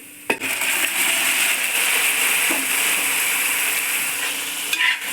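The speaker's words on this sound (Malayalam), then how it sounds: "നമുക്ക് എടുത്ത് വെച്ചിരിക്കുന്ന നമ്മുടെ വെന്ത ബീഫൊക്കെ നമുക്ക് ഇതിലേക്ക് ഇട്ട് കൊടുക്കാം" Cooked beef is tipped into masala frying in a pan for a beef and plantain stir-fry, with a sharp clatter at the start, then steady loud sizzling and a few light knocks.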